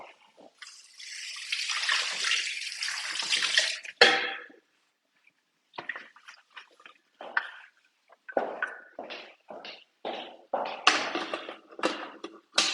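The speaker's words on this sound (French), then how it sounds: "Je vais rincer aussi mon couvercle." Thermomix lid rinsed under a kitchen tap, with a steady gush of running water for several seconds, then a sudden stop followed by scattered splashes, drips and clinks as the lid is handled.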